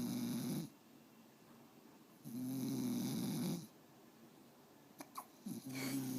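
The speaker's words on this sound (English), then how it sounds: "And you're snoring." Pet with the hiccups snoring in long, rasping breaths, two drawn-out snores separated by quieter pauses, with a few small hiccup-like catches near the end; close and fairly soft, with no talk.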